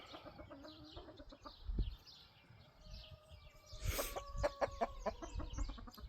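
Chickens cluck and call while foraging in a yard, several birds at once with irregular clucks and a few louder squawks, moderately close and fairly quiet, with no one speaking.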